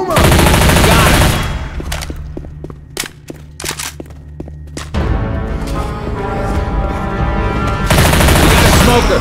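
Automatic gunfire in the Left 4 Dead 2 zombie shooter game, loud rapid bursts up front, then a stretch of spaced single shots before heavy sustained fire returns.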